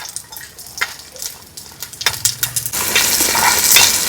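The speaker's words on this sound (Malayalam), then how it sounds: "ഇത്തിരി ഉപ്പിട്ടും കൂടി ഇട്ടിട്ട് വഴറ്റിയെടുക്കാം നമുക്ക്" Small shallots sautéing with a pinch of salt in a pan for a barramundi dish, with several scrapes and taps of a stirring spoon that give way to a louder, steady frying sizzle, close and without talk.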